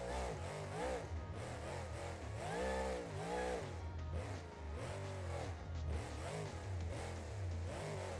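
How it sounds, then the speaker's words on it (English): A loud truck engine in the BeamNG.Drive driving game revs repeatedly, rising and falling in pitch through several surges over a steady low rumble, with no talk over it. "A loud truck now."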